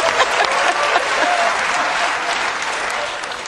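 A large studio audience at a comedy talk show claps in a dense, steady burst of applause that stays loud throughout and eases off slightly at the end.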